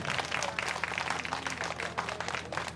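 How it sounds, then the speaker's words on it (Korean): Audience applause for a singer at a live show, steady and dense clapping filling the whole moment at moderate distance, with a few scattered voices mixed in. "박수 한번 보내주세요."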